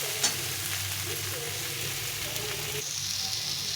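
Soybean curry masala being sautéed in a pan, a steady close sizzle with low stirring scrapes and a brief tap at the start.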